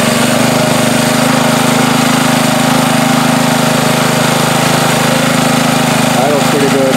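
A Ryobi pressure washer's small gasoline engine idles after a carburetor fix, a loud, close, steady droning rumble with even pulsing throughout.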